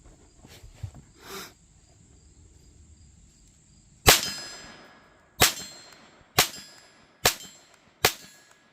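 A Sig Sauer P322 .22LR pistol fires at a steel silhouette target 25 yards away. Five sharp, ringing metallic clangs come at a steady rhythm, each with a bright decaying ring, and quiet outdoor ambience with insects fills the gap before them.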